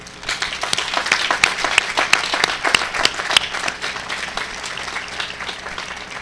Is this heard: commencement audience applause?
yes